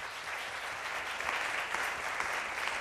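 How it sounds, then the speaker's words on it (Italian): Studio audience applauding on an Italian TV casting show, a steady dense wash of clapping filling the whole stretch at moderate, even loudness with no voices. "Un applauso."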